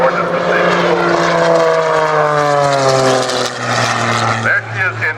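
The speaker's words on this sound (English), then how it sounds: "There she is in knife-edge flight, no lift to the airplane being contributed by the wing" A propeller airplane flies aerobatics at an evening airshow in Columbus, Georgia, including knife-edge flight, its engine a loud, steady droning roar with a gliding pitch shift as it passes, dipping near the end.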